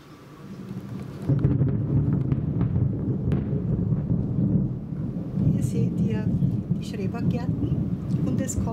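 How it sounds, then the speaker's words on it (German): Low rumbling thunder rolls steadily from an approaching thunderstorm, heard from a balcony overlooking the view below, with faint rain and a few brief high sounds near the end. "Und es kommt ein Gewitter"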